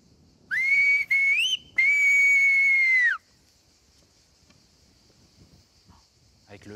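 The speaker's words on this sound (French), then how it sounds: "À partir d'ici, je peux siffler Maria." A Greek shepherd on Euboea whistles a message across the hills: three loud, sustained, pitch-gliding whistles close by with brief gaps, then fading to quiet outdoor ambience with faint rustling.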